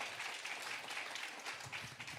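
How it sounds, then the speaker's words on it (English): Faint audience applause at a drum clinic with drummers Danny Seraphine and Jeff Coffey, a soft, continuous patter of many hands heard from a distance. "We don't have to be shy with applause"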